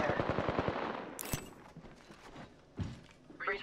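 Rapid automatic gunfire in Apex Legends, a close loud burst of rhythmic shots followed by a sharp single crack, clanks and quieter thuds of movement.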